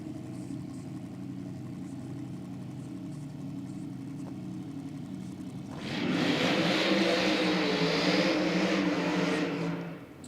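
A nostalgia drag racing car idles with a low, rumbling engine, then the throttle opens during a burnout and it roars louder with a rising, raspy whine for several seconds before easing off.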